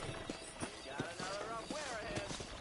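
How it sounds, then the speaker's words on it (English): Horse hooves in the Red Dead Redemption video game clop in a regular rhythm of sharp, evenly spaced knocks, moderately close, under a voice talking throughout. "I picked out a fine horse for you."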